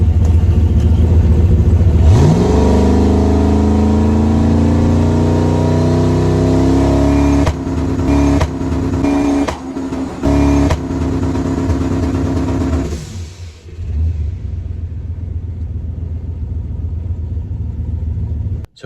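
A drag car held on the trans brake, fitted with 26-inch wheels, revs hard and loud close by with rising and sustained engine tones, then cuts in and out in bursts before dropping to a lower rumble.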